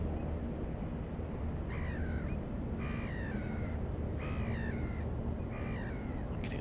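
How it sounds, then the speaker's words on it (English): Oystercatchers calling by the Thames near Tilbury and Gravesend Pier: four short bursts of shrill piping, each a rapid cluster of notes, moderately distant over steady low riverside rumble. "I'm getting those pesky oyster catchers again."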